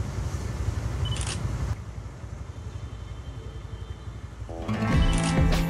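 A Nikon Z30 camera fires its shutter for a low-angle night shot lit by a motorbike's light, giving a couple of crisp, close clicks over a steady background rumble.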